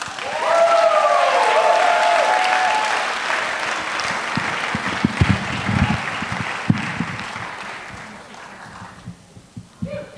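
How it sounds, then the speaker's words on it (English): A crowd claps for a performer taking the stage, loud and sustained at first, then gradually thinning into scattered claps as it fades out. "So, without further ado, please, a large round of applause for Michelle Elise."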